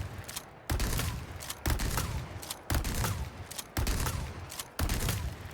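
A shotgun fires in the video game Resident Evil 4 Remake, about five heavy booming blasts evenly spaced roughly a second apart. Each shot is loud and close and rings out briefly before the next.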